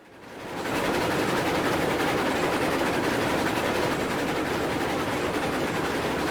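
Train running in the Railroads Online video game, a steady, loud rolling rumble with rail noise that swells in over the first second and then holds constant, with no voices.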